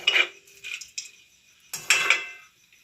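A spoon scraping and knocking in a kadai while two bay leaves are stirred in oil, several short metallic scrapes in bursts with quiet gaps, close and fairly loud.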